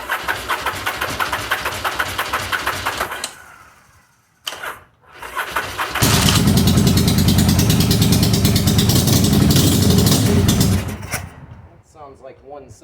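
Yamaha Virago motorcycle engine, fouling its spark plugs and running on one cylinder, cranks and catches, cuts out briefly, then roars loudly and roughly for several seconds before dropping to a lumpy idle.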